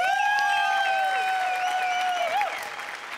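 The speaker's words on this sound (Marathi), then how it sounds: "सगळ्यात आधी जोरदार टाळ्या विनायक पुरुषोत्तमसाठी" A studio audience at the Marathi comedy show Maharashtrachi Hasyajatra breaks into loud, sustained applause over sustained musical tones, and the clapping thins out toward the end.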